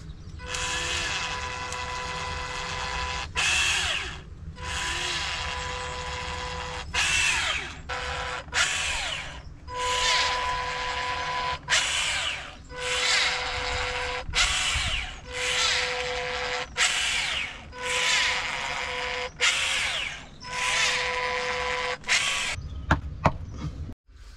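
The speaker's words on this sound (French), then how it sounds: "je prends une mèche de 8. Je mets des fiches ficheurs du 8 mm." Power drill with an 8 mm bit boring into a concrete lintel, a loud grinding whine in repeated bursts of a few seconds each, separated by brief pauses, with no talking.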